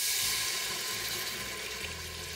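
Water poured into a pot for cooking oxtail curry, a continuous close splashing, hissing stream that runs steadily throughout.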